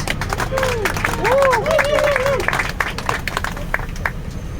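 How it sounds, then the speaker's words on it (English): Passengers aboard the amphibious Ocean Bus in Stockholm applaud their driver, a burst of clapping and cheering swelling in the first half and tapering off, with voices calling out over a low vehicle rumble. "Please give him a round of applause."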